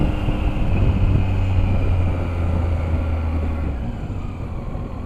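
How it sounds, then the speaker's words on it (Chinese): Exhaust drone of a Zontes 703F motorcycle cruising on an expressway, a loud steady low rumble with wind rush that eases slightly near the end, no talking. "你会感觉这个车的排气声音还是大了一些"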